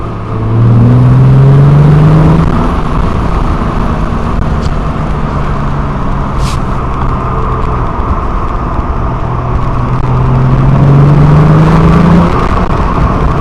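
Morgan car with a 3.7 litre Jaguar V6 driving, a loud, close engine drone whose pitch rises as it accelerates, eases off to a steady cruise, then climbs again.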